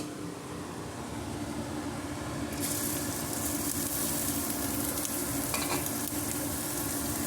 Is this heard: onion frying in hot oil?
yes